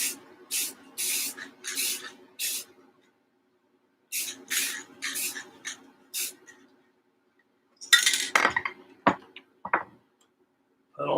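Short bursts of sealer hiss from a spray can onto a Minicraft 1/350 RMS Titanic model kit part, a close series of quick puffs in two rhythmic groups, then a few sharper sprays and clicks.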